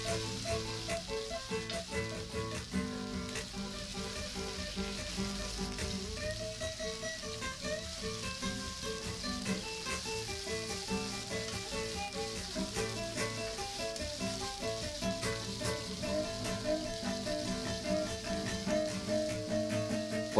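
Ossobuco sears on a disco grill, giving a steady, dense sizzle with crackling pops that holds at an even level throughout, with no talking.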